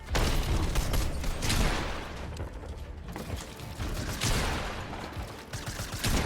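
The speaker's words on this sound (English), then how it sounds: "The long range shots are definitely easier on Koyota's slower sense" Rapid gunfire from a first-person shooter video game, with bursts of shots and mechanical clicking running continuously at close range with no talk.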